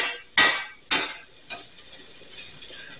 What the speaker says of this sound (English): Now we're just going to give it a stir